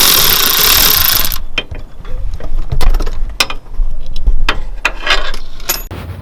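Ratchet on an extension loosening 13mm starter bolts on a 2014-2018 Chevrolet Silverado, with clicking pawl bursts, metallic clinks and rattles up close after a loud opening blast of noise.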